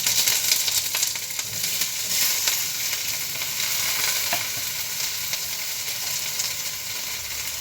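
Onions fry in hot oil for a mutton curry, giving a continuous, close, hissing sizzle with occasional faint stirring scrapes and no voices.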